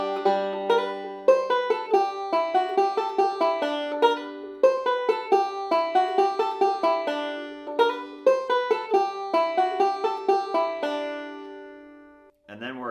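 A banjo played through a pickup runs a bluegrass-style solo on "Shove The Pig's Foot A Little Further Into The Fire," with bright, close plucked notes in a steady rolling rhythm for about eleven seconds before ringing out, then a short muted strum.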